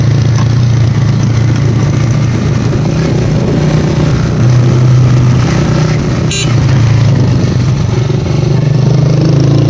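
Motorcycle engine running loud and steady, close up, while riding a dangerous, dusty mountain track in Pakistani Kashmir above the Neelum River, with constant rumble and wind.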